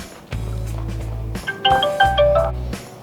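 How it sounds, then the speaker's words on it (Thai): A mobile phone ringtone for an incoming call sounds, with a bright, bouncing melodic pattern over low buzzing pulses like a vibrate alert, played twice and fairly loud, with no speech over it. "เพื่อนๆมีโทรศัพท์เข้ามานะครับ"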